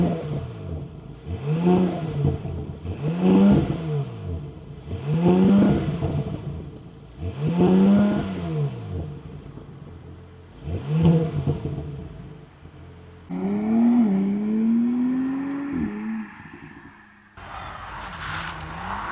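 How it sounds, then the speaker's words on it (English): Audi S5 Avant with a 3-liter V6 and four real exhaust pipes, revved repeatedly in five rising and falling blips from close by, followed by a longer climb and a final short burst. "sound check to see how these quad exhaust pipes, which are all real, which is a nice thing, sound like with that 3-liter V6"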